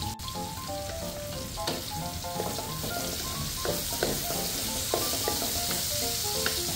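Tilapia frying in hot oil in a pan makes a continuous crackling sizzle, dense with pops and spits throughout and fairly close. No one speaks.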